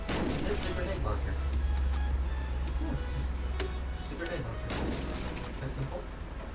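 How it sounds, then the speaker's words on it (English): A CIS-40GL grenade launcher in the game Unturned fires with heavy booming blasts, one near the start and another later, over a constant low drone. "CIS-40GL. Oh, look at that. This is a grenade launcher."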